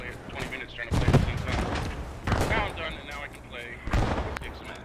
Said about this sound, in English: Oh, that was a grenade